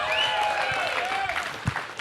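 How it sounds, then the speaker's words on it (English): A round of applause from an audience at a live Aussie Rules football show, a steady wash of clapping that carries on under a voice as he speaks. "really well-deserved round of applause"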